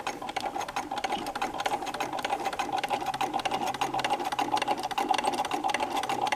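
A Singer 237 sewing machine, converted from electric to hand-crank drive, runs steadily with a quiet, even, rapid clatter of stitching and no talking.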